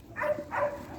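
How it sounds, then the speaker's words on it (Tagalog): Two short, close dog barks or yelps come in quick succession, faint and soft against a quiet background. "Mami, ang daming aso."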